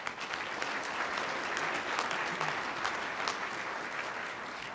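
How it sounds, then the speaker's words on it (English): Commencement crowd at South Texas College of Law applauding its graduates, a broad, even wash of many hands clapping throughout, heard from some distance with a faint murmur of voices underneath. "So round of applause for all of you."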